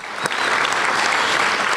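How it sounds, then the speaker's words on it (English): A film festival award ceremony audience claps enthusiastically, a full, steady wash of applause filling the room with no pause. "So I would love just an enthusiastic applause for everyone that makes this film festival what it is."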